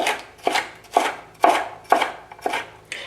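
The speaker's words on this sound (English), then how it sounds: "here we're just going to get them a thinly julienne strip cut like this" A knife cutting a triangle pepper into thin julienne strips on a board, six or seven crisp evenly spaced chops about half a second apart, close and clear with no talking.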